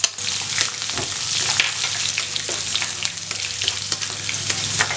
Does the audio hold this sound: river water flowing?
no